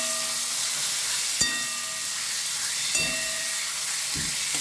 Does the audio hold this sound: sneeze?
no